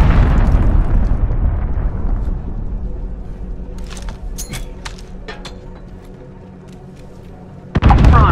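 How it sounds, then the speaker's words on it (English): A cruise missile detonating in Call of Duty: Modern Warfare, a huge close boom that rolls off into a long decaying rumble, with scattered debris crackles and pops, then another loud blast at the end. "Enemy cruise missile incoming"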